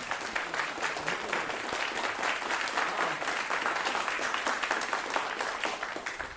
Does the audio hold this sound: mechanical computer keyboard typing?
no